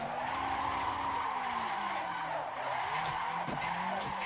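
A car in Assetto Corsa slides through a long drift, tires squealing continuously with shifting pitch over a loud engine drone, close and sustained without talk.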